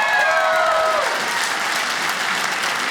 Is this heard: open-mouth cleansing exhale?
no